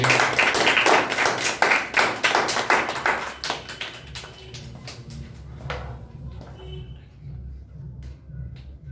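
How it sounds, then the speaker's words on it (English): Children in a classroom clap for a classmate, a few seconds of uneven, fairly close hand claps that thin out into scattered single claps and taps, with faint talk near the end. "Clap for her once again."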